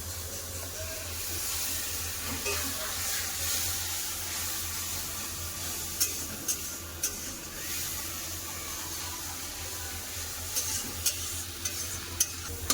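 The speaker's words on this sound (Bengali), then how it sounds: "সামান্য পরিমাণে একটু জল দিয়ে মশলাটাকে ভালো করে কষে নেব" Turmeric-spiced masala paste cooked down with a splash of water in a pan for a mango, potato and fish-head dish, giving a steady close sizzle with scraping stirs and a few sharp utensil taps near the end.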